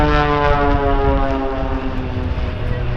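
Propeller aircraft of an aerobatic display team arriving together in box formation at an air show, a loud, steady, sustained engine drone with a continuous harmonic hum and no breaks.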